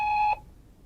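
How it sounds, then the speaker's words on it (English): A single electronic beep from an answering machine, steady and loud for about a third of a second before it cuts off into quiet room tone. "Please leave your message after the beep."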